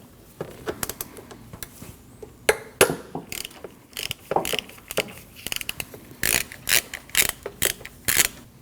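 A ratchet works the single 10mm bolt that holds an ignition coil to the valve cover of a Nissan NV2500, giving quick clicking bursts. The clicks come in uneven runs and turn into regular, louder strokes toward the end.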